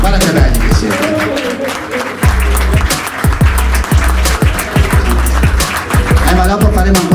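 An audience applauds calendar models at the Bellezze Venete 2020 calendar launch at Cafè Zhivago, sustained, dense clapping with some close, sharp individual claps, loud throughout with voices mixed in.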